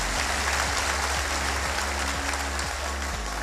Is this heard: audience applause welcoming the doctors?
yes